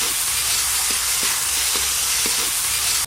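Sour fruit cooks down in a pan with salt and turmeric, giving a steady loud sizzle and hiss, with a few soft scraping knocks from stirring as the fruit melts to a jelly.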